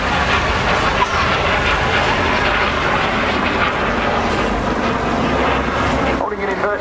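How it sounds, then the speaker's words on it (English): A vintage training aircraft at the 2016 Southport Airshow gives a loud, steady, broadband engine roar throughout, with a voice partly mixed into the noise. "this is a really capable and stable machine, an ideal aircraft to be training in"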